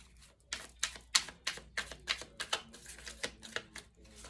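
Cards are handled and shuffled up close, making a steady series of about a dozen crisp, papery riffles and snaps at an even pace, with no talk.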